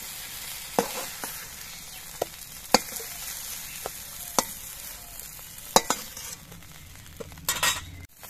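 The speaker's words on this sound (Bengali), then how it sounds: "বেগুনগুলো তেলের মধ্যে নাড়াচাড়া করে নিয়ে আমি বেশ কিছুক্ষণ ভেজে নিয়েছি।" Eggplant pieces sizzle steadily in hot oil in a pan while being stirred, with a series of sharp clinks and scrapes as a metal utensil knocks against the pan.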